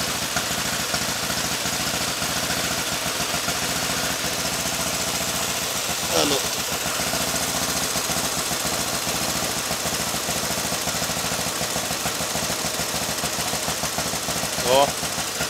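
A Dnipro motorcycle engine idles just after its first start, idle turned down slightly, a steady low rattling putter throughout with a couple of brief louder blips.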